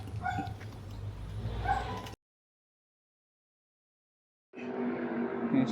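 Near an abandoned gas station, a dog barks and whimpers in short bursts, split by a stretch of silence before the sound resumes, moderately close.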